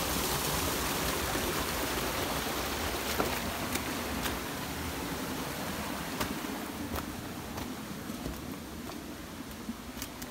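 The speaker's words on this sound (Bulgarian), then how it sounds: "Това е дивашка река, истинска река." A wild trout river with clean water rushes steadily and loudly nearby, a broad continuous flow with occasional small splashes and knocks.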